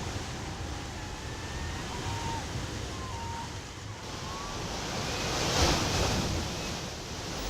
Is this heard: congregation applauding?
no